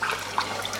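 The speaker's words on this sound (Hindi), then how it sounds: "इसमें आप 2 कप जो है गिलास इतना पानी डालेंगे।" Water pours steadily into a pot of mutton curry on the stove, a continuous splashing gush with no talk over it.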